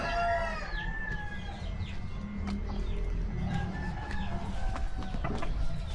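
Chickens cluck and a rooster crows near the start on a backyard farm, with more scattered clucks over a busy outdoor background.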